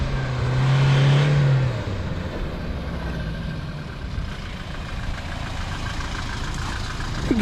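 A Toyota Fortuner 4x2 idles off-road with a steady low engine rumble, a brief louder rev near the start, then a settled idle.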